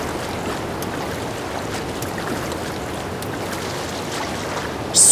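Link swimming up a waterfall with Zora armor in The Legend of Zelda: Breath of the Wild, a steady rushing water wash, continuous and even, swelling slightly at the very end.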